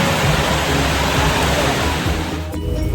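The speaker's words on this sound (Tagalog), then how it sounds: "Inabot kami ng malakas na ulan." Heavy rain pours down in a dense, continuous hiss, loud and close, with no voices.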